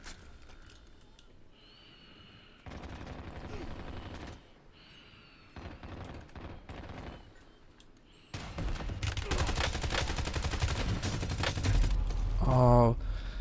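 Gunfire in the video game Warzone comes in bursts of rapid automatic shots with mechanical reloading clicks between them, then a sustained loud stretch of firing toward the end.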